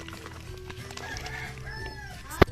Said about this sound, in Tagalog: Tingnan mo pa kami manok.